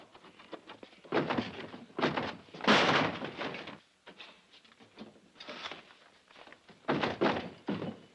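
A wooden door is pounded in heavy, irregular bursts of knocks and thuds, fairly close, separated by short pauses, in an old 1952 film noir scene; no talking is heard over the banging.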